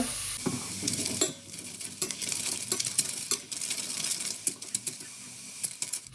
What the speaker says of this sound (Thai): เราก็จะผัดหน่อไม้กับน้ำปลาก่อนนะคะ